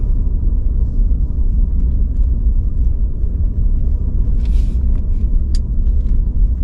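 A Ford F150 Lightning electric truck drives over snow, a steady, loud low rumble of tires and road noise throughout, with a few faint higher crunches near the end.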